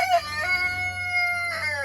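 A broody farm hen gives short, harsh clucking calls in close succession, loud and near, with no talk over it.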